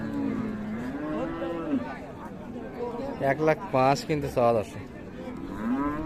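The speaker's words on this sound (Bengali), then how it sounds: "গরুটা দেখেন গরুটা দেখেন" A cow at Raniganj cattle market in Bangladesh, among crossbred, Sahiwal and local cows with calves, lets out several long moos close by, while people talk and bargain over the animals.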